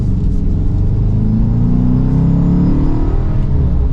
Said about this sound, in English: It's a very quick revving engine